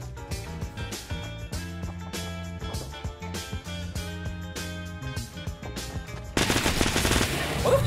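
Rapid automatic gunfire in a Fortnite Battle Royale squad match, repeated bursts of shots in a steady rhythm against game music, loud and close, followed by a louder noisy burst near the end.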